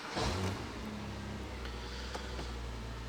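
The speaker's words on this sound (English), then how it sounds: "I need to actually have the engine on." A first-generation Porsche Boxster 987 engine cranks and catches with a brief burst, then settles into a low, steady idle, heard faintly from inside the car with no talking.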